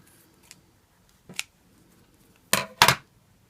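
Scissors snip thread ends on a sewn vent pleat sample: four short, close, crisp cuts, two spaced apart early and then a quick pair near the end, in an otherwise quiet room.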